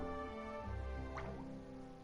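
Water droplets in a video game, heard as soft wet drips and a gurgling plop over a sustained tonal game background, faint and brief.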